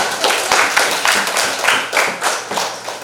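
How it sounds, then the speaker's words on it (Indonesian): A classroom group claps for a student named Vanessa, a loud, fairly rhythmic burst of close hand claps from several people, pulsing steadily for a few seconds with no talking. "yang lainnya tepuk tangan dulu buat Vanessa"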